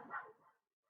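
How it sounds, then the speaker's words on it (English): A dog gives a single short bark or yelp indoors during a quiet lecture, sounding close and brief before fading into silence. "Excuse my dog."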